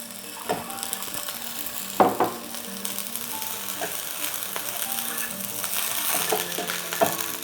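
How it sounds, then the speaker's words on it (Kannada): Boiled eggs frying in oil on a tawa over a gas stove for egg biryani, a soft continuous sizzle broken by several sharp clacks and scrapes of a utensil against the pan, close by, with no talking. "ಮೊದಲು ನಾನು ಎಗ್ಗನ್ನು ಸ್ವಲ್ಪ ಮಟ್ಟಿಗೆ ಫ್ರೈ ಮಾಡ್ತಾ ಇದ್ದೀನಿ"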